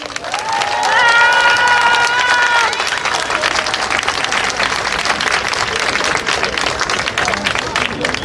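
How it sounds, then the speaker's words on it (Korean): A crowd breaks into loud, sustained applause with some cheering, clapping steadily from start to finish as a voice speaks briefly at the beginning, at an outdoor memorial rally marking 900 days since the Sewol ferry disaster. "힘찬 박수로 모시겠습니다"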